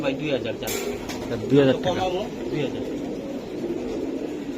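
Racing pigeons coo in soft, rolling bursts near a seller's loft, with someone talking over them and a sharp clatter early on amid steady background noise.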